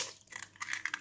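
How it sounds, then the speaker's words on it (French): Two eggs cracked into a mixing bowl for a yogurt cake: a quick series of close, crisp cracks and crunches of shell in about a second, with no voice. "dans un saladier, je vais venir casser les 2 œufs"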